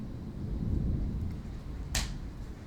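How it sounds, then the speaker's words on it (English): Thunder from a thunderstorm in Tampa: a low rumble swells early, then a sharp crack strikes near the end over a steady background of rain-like noise. "There's a beautiful thunderstorm going on right now in Tampa."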